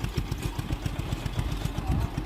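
A Maruti Sanedo three-wheel tractor with a 10.5 hp engine runs in a tight farm field, its small engine chugging in a quick, steady, close-up rhythm.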